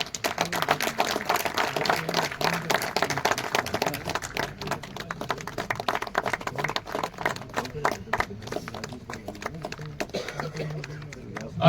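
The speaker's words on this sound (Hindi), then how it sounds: "अरे इनके लिए तो जोरदार ताली बजा दो भाई।" Loud, dense clapping from a crowd at a Sindhi literary program in Ladakh, continuous and rapid, with voices mixed in underneath.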